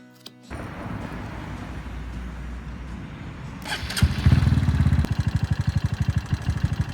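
A motorcycle engine is started close by: a low rumble, a rising crank and catch, then a loud, rapid, pulsing idle near the mic.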